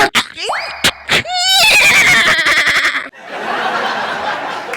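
A loud, close horse whinny rises and trembles for a couple of seconds after a few short sounds, followed by a rough, noisy rustle, in a comedy skit.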